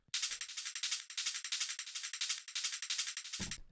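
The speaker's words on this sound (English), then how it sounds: "There we go, and you get yourself a nice little shaker." Drum loop of shuffle hits with the low end filtered out so it sounds like a shaker, a brisk, bright, steady rhythmic hiss of quick strikes, close and alone without talk.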